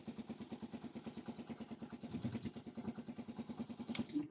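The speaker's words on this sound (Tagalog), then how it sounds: "So, sigurado yan, gagana yung kanyang electric starter." Motorcycle electric starter cranking the engine in a rapid, even pulsing rhythm for several seconds, faint but close, ending with a brief clunk.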